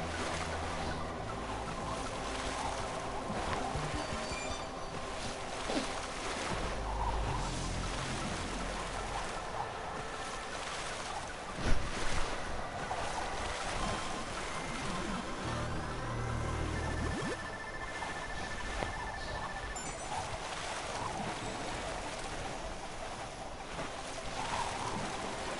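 A sailboat cuts through waves in the Watch Dogs 2 video game, a steady wash of water and wind running the whole time, with a brief louder splash midway and a thin tone near the end; no talk.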